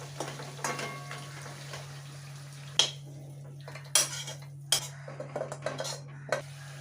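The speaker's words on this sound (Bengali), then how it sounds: "এখন মটনটা প্রায় হয়ে এসছে, এখন এটাকে আমি কুকারে শিফট করে দেবো" Nearly cooked mutton is moved into a pressure cooker, heard as scattered metal clanks and scrapes of a spoon against the pot, spaced irregularly over a steady low hum. Nobody speaks.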